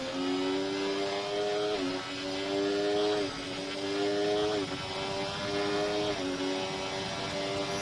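A Ferrari Formula 1 car in a racing game screams at high revs, its engine note climbing steadily and dropping sharply at each upshift, about five shifts in a row, loud and continuous.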